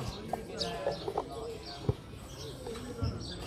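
A pigeon of the 'medical' breed gives soft, scattered coos and brief flutters close by, while people talk in the background.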